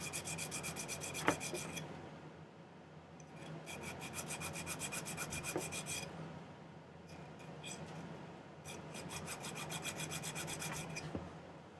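Hand file rasping on a silver ring for a turquoise ring, faint but steady, with repeated rhythmic strokes in several runs and brief pauses between them.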